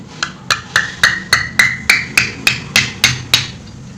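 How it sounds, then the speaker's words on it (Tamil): Holes punched one after another into the metal lid of a glass jar, about a dozen sharp, evenly spaced taps with a ringing metallic edge, close and loud. "இந்த மூடியில் ஒரு ஆறு ஓட்டைகள் போடணும்"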